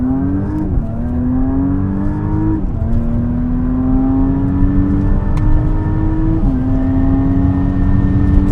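A Porsche Cayenne E-Hybrid Coupe with a Stage 1 tune pulls hard from a standstill, its engine note climbing steadily through loud, close gear shifts that each drop and restart the rising pitch.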